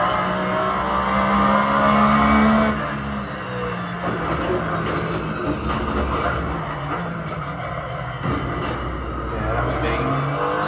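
A Porsche GTR race car in Assetto Corsa on Xbox One holds a steady, loud engine drone with shifting revs and gear changes throughout, while someone talks over it.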